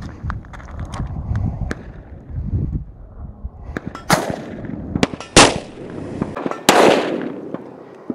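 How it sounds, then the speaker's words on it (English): A Ruger GP100 .357 Magnum revolver with a 5-inch barrel firing 158-grain XTP rounds, several loud sharp cracks spaced a second or more apart, with ringing echoes trailing each shot. "Now we'll be shooting the 158 grade XTPs at about 1400 feet per second."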